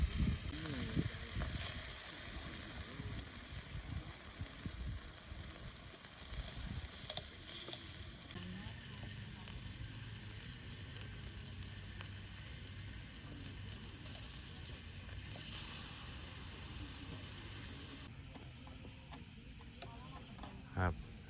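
Pork sizzles quietly on a Thai mu kratha grill pan at a mountain campsite in Phu Pha Man, Khon Kaen. A soft, steady frying hiss continues throughout, with faint clinks and low background voices.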